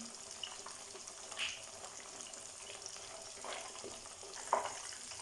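Chicken leg pieces frying in hot oil for KFC-style broast, a steady soft sizzle throughout with a couple of brief louder pops and stirs, no talking.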